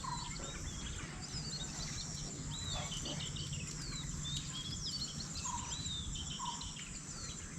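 Sparrows chirp and tweet at a morning feeding spot as grain is scattered for them, with scattered high calls over a steady outdoor background hum and faint insect buzz, no talking.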